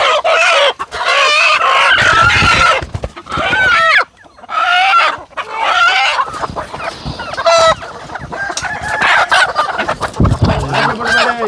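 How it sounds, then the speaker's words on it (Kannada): Native country chickens packed into a net cluck and squawk loudly and continuously at close range, with a brief rooster-like crow among the flurry of calls. "ನನಗೆ ಕೋಳಿ ಕೊಡೋದನ್ನ ಜಾಲರಿಗೆ ತುಂಬಿದ್ದಾರೆ"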